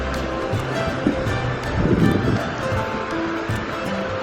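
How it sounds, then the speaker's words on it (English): River water flows steadily along the Appalachian Trail, a continuous broadband rush heard close and fairly loud, swelling slightly midway, with wind mixed in. "Love the sound of the flowing river water."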